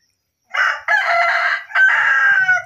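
A red jungle fowl rooster crows once, close and loud, in a drawn-out multi-part call lasting about two seconds, with faint clucks in the background.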